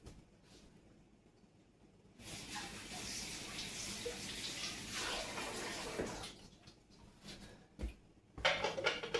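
Water runs from a tap to rinse cranberry pulp and seeds off a strainer, a soft steady splashing for several seconds that stops, followed by a few close clatters.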